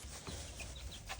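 Baby chicks in a backyard chicken coop peep and cluck faintly at a distance, a quiet scatter of short calls over steady outdoor hiss.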